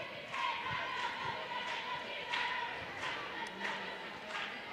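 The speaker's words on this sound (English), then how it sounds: "There we get a good cheer out of the Hazlitt team" A junior varsity volleyball team cheering during a match in a school gym, faint group shouts rising in short bursts over a murmuring crowd, heard from a distance.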